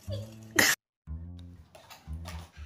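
A voice speaks, then a single sharp, explosive cough breaks in, followed by a short silence before talking resumes.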